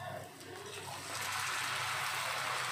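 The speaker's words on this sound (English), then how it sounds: "Now we are going to add water to it." Water pours steadily into a jar for a misal pav made with a large bowl of sprouts, starting as a gentle trickle and swelling into a louder, continuous rushing stream after about a second.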